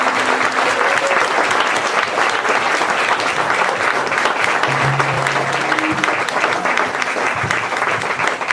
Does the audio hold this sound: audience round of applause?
yes